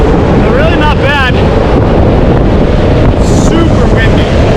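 Strong wind buffets the microphone on a mountaintop summit in Monteverde, Costa Rica, roaring loud and unbroken throughout. Faint bird chirps come through in short bursts.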